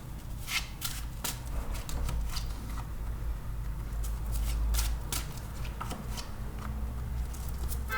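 Tarot cards are shuffled by hand in a steady run of soft riffling and papery slaps, close and fairly quiet over a low room hum, with no talking.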